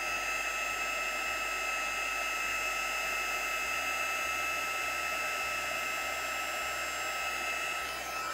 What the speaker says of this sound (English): And bring out heat tool around to the front and I should see it start to move